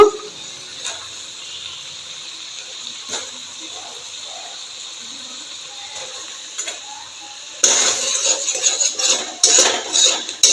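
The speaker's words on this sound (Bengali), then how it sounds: "আমার আলুগুলো যে ভেজে রেখেছিলাম হালকা করে আমি এখন আলুগুলো দিয়ে দিব" Fried potatoes tipped into cooking masala in a pan, a clatter of utensil against metal rising near the end after faint scraping and light clinks.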